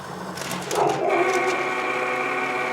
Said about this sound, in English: So it's going to go ahead and cut my wax paper.